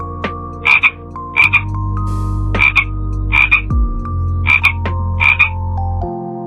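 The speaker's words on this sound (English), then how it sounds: "F for frog. The frog jumps far." A frog croaks seven times in a regular rhythm, each croak a loud, close, raspy double call, over a soft sustained musical tone.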